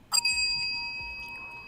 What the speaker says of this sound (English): Ring the bell for yourself there